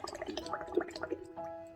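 Water dripping and gurgling close by, a short burst of bubbly splashes and trickles with a few tonal plops, alone without talk.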